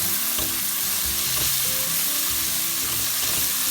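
Chopped onions frying over high heat in melted butter give a loud, steady, close sizzle that runs without a break for the whole stretch.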